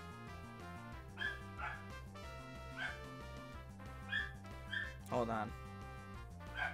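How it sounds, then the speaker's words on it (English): A dog-like Pokémon, a Shinx in Pokémon Shining Pearl, yips and barks repeatedly in short cries over looping game music, with a person briefly talking. "that dog is really going to town."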